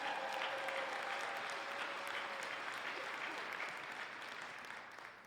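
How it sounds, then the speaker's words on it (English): Restaurant staff at a McDonald's customer-service keynote applaud the crowd: a full, dense wash of clapping that holds steady and then gradually tapers off toward the end. "Give yourselves a round of applause, ladies and gentlemen."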